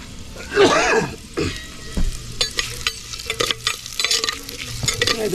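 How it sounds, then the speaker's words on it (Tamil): Onion and mustard seeds fry in a hot clay pot, with uneven stirring scrapes and bursts of sizzling, plus a brief throat-clearing near the start. "இது போட்டு நல்லா வதக்கணும்."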